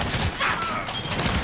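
Rapid bursts of gunfire in Call of Duty: Modern Warfare on the Shipment map during a Hardpoint match, heard as a short, dense volley of shots.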